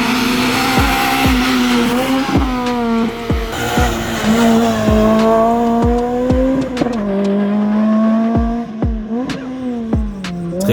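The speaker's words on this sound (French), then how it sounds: "la 5e place détenue par Daniel Louison, pilote expérimenté qui amène sa C2 dans le top 5" Citroën C2 race car at a hill climb race, its loud engine revving high through the gears with repeated shifts and tire squeal, close and continuous.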